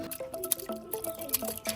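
Freshly grated potato is dropped into a bowl of water, giving a quick series of soft wet plops, drips and squishes at close range with no talking.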